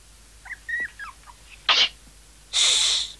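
Two sharp sneezes burst out close by, the second longer and breathier, after a few faint squeaky chirps in an animated story scene.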